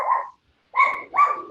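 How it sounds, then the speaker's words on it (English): A dog barks indoors during a webinar call, giving three sharp, close barks: one, then a pause, then two in quicker succession. "Sorry, that's my dog."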